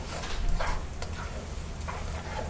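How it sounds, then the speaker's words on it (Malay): Onions sizzle steadily in a hot pan with a soft crackling hiss and occasional stirring scrapes, no talking. "Tumis hingga dia layu ya,"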